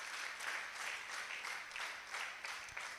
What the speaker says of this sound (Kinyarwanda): Wayikomera amashyi Imana ko ari Imana nziza.